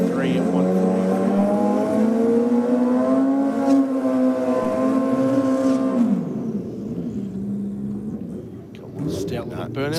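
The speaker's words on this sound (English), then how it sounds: "Stout little burnouts there." At a Sydney Dragway bike night, a drag-racing motorcycle holds a short burnout, its engine droning in a strong, wavering harmonic note for about six seconds before dropping away, while an announcer talks over the track noise.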